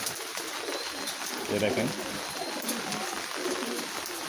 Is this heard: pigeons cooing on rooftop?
yes